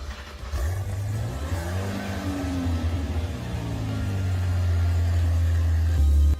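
In the Driving Empire video game, a Zenvo TSRS engine cranks and catches, then settles into a steady, deep, loud idle that holds for several seconds, with no voices.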